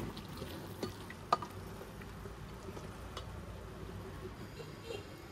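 A pan of curry, with potatoes already browned, sizzles and fries steadily at low level while being stirred, with a few sharp scraping clicks from the spoon against the pan.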